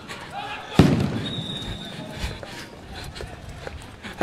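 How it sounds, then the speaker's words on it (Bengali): A sound grenade thrown by police during a crackdown on protesters at Dhanmondi 32 in Dhaka goes off as one sharp, loud bang early on, followed by scattered thuds and crowd noise while a person talks over it. "একের পর এক সাউন্ড গ্রেনেড নিক্ষেপ করা হচ্ছে।"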